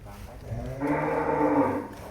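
A large European-breed cow lets out a single long, loud, close moo in a farm pen, rising out of low background noise and holding steady before fading.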